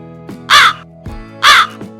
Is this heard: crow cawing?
yes